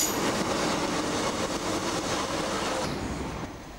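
A train runs out along the pier at Stranraer toward the Ireland ferries, a loud, steady rolling rumble with wheel clatter and a slight squeal, fading somewhat toward the end.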